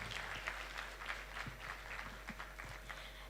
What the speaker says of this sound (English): Can we please get a round of applause for Mr. Lalani?